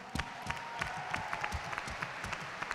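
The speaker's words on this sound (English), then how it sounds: "We'd like to give a huge round of applause to everyone that participated and everyone that won today." Scattered applause from a convention audience at a closing ceremony, heard as quiet, sparse individual claps spread unevenly over a soft room background.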